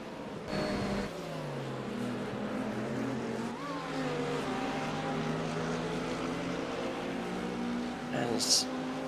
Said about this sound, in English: The hypercars are now going to come through.